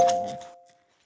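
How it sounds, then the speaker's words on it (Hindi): A phone notification from a family group chat, a single short bright chime with a clear ringing tone that decays and fades out within a second. "एक तो यार ये हम फैमिली ग्रुप के नोटिफिकेशन से बड़े परेशान हैं।"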